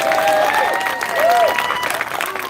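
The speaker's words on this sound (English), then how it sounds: "Please, biggest round of applause ever, please." A crowd at a London march for Maria applauds and cheers, a dense wash of clapping under brief tonal whoops and voices.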